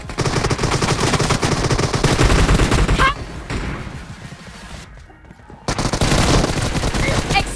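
Rapid automatic gunfire in the mobile battle game BGMI, dense bursts of shots that pause briefly and resume, loud and close, with a short silent gap midway.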